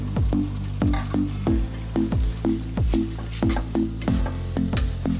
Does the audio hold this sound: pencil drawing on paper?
no